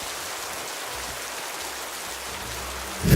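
Steady rain from the video game Creativerse hisses as a constant, even wash of drops on surfaces, with a sharp louder sound right at the end.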